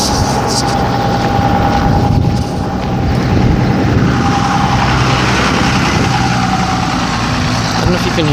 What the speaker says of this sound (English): I don't know if you can hear anything but the diesel engine on these vehicles.